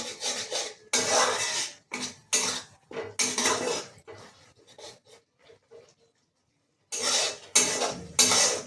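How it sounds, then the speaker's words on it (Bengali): Spices being stir-fried and scraped in a pan with a metal spoon, for a summer jackfruit curry: repeated close scraping and clinking strokes in bursts, with a brief quiet pause midway. "মশলাটা কষিয়ে নিই"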